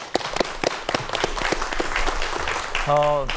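A lecture audience at an architecture science talk breaks into applause, starting with scattered individual claps that build into a fuller round, while a voice and a brief tonal sound come in near the end.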